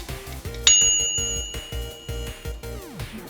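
A bright metallic bell rings once with a long, shimmering decay, over a steady rhythmic mechanical clatter.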